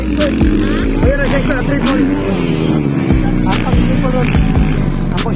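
Enduro motocross motorcycles racing through a whoop section at a Valencia Charter Day motocross event, engines revving and buzzing loudly and continuously while an announcer talks over them.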